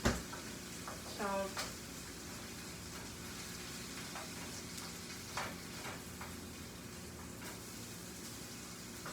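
Beef stir fry sizzling in a frying pan, a soft continuous hiss with occasional clinks and utensil taps, fairly quiet and steady.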